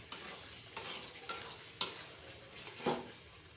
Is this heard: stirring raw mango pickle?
yes